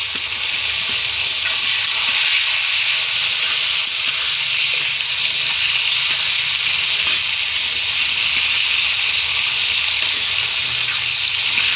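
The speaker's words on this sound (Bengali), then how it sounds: "ডাঁটাটা দিয়ে দেবো এই সজনে ডাঁটাটা" Drumstick stalks fry in mustard oil in a kadai for a sajne posto dish, giving a loud, steady, unbroken sizzle that holds evenly throughout with no voices.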